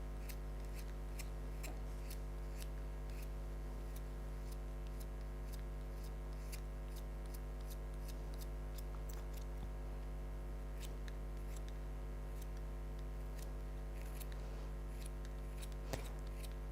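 A blade scrapes and chisels the wooden casing at the top of a drawing pencil, producing a steady run of soft, irregular ticking scrapes close by over a constant low electrical hum.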